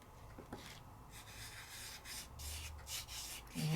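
Material is rubbed into place by hand during a heat embossing craft project, soft faint scratchy rubbing strokes in short bursts, heard alone in a quiet room.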